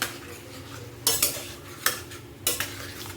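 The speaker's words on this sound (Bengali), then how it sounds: "এটা কিছুক্ষণ নাড়াচাড়া করব, একটু কষে নেব।" Pointed gourd is stirred with yogurt in a pan over a low flame: a utensil scrapes and taps against the pan in three distinct bursts over a faint continuous sizzle, with no talking.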